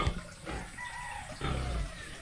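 Fighting roosters cluck and call in a pen, a short burst of fowl sounds close by with low rumbling in the background and no speech.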